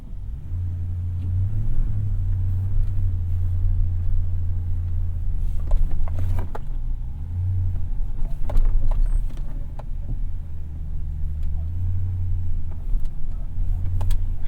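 A Toyota Tundra on Kumho Road Venture AT52 tires crawls off-road in four-wheel drive, a steady low engine rumble with occasional knocks and rattles from the rough ground.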